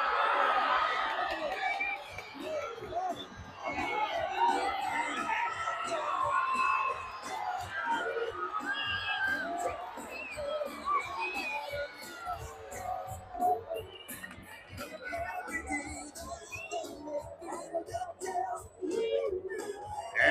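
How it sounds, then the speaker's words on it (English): A crowd at the LA County Fair 2024 pig races whoops, yells and cheers in loud bursts, then settles into scattered clapping and shouts, with voices calling out above the noise. "Let's get ready to make some noise. Cheer them on."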